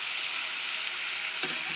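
Potatoes and pork frying in a wok with ginger, garlic and chilli, a steady loud sizzle throughout with a brief stirring scrape near the end.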